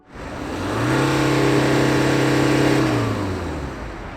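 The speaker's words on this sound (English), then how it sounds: "And now, let's hear her roar." A 2021 BMW 5 Series engine revs up from near silence, holding a loud steady roar with a rising pitch, then eases off as the revs drop.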